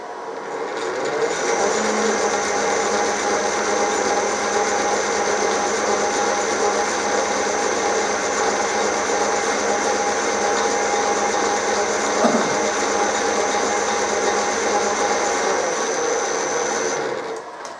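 A 16U04P metal lathe running at low speed gives a steady mechanical whir with a constant high whine and a faint gear rattle. It starts up, holds evenly for about sixteen seconds, then winds down.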